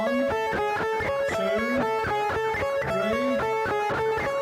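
An electric guitar plays a quick arpeggio, notes picked in a steady rolling pattern with some bends, loud and close, no voices.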